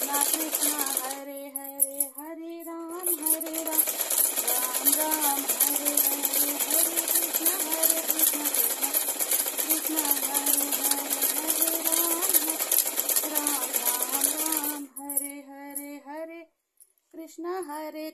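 An electric sewing machine stitches a petticoat, running in a steady rapid whir for a long stretch with brief stops near the end, while a voice chants devotionally over the motor.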